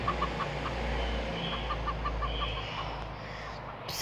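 A hen clucking in short, regular bursts from a chicken in a Portuguese-language video game or clip, heard over a steady low background hum with no talking.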